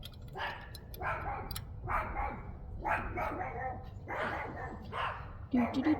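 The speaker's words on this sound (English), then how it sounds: "You hear that other little dog, didn't you?" A small dog barks in a distant, repeated series of about six sharp yaps at a steady rhythm outside a garage where a single-cylinder Kawasaki engine is being repaired, with a person talking nearby.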